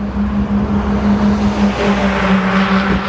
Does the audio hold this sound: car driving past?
yes